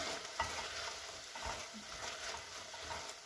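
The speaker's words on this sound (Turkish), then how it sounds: "Bu şekilde karıştırıyorum arkadaşlar" Okra and minced meat are stirred in a frying pan, with a steady soft sizzle under occasional scraping knocks of a spoon against the pan.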